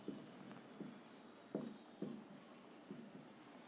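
Chalk or marker scratching out a question on a classroom board: a series of short, quiet strokes in an uneven rhythm, close and clear in a quiet room, with no talking.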